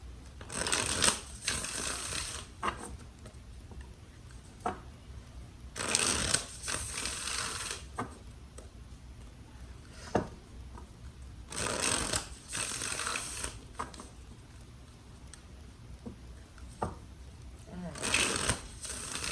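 Tarot cards being shuffled in several separate bursts of quick riffling flutter, close and crisp, with quieter pauses between them and a voice talking at times.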